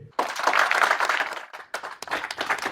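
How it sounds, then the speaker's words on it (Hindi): A crowd of villagers claps after a candidate's speech in a village headman election, a burst of applause that starts abruptly, runs on, then breaks into a few scattered claps and a second swell. "वहाँ के भाषण पे ताली बजा रहा हो।"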